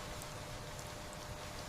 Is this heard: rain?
yes